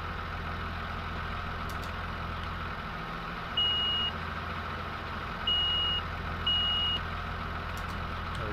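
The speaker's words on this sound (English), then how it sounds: "Got a backup beeper even on it." Reversing beeps from a truck in the Farming Simulator video game sound three times, evenly spaced, over a steady idling engine rumble, with no talk.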